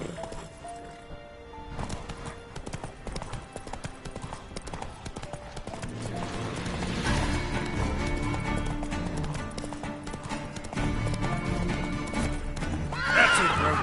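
Roach the horse in a video game neighs and whinnies while hooves clip-clop at a run, steady hoofbeats under game music with a loud whinny near the end.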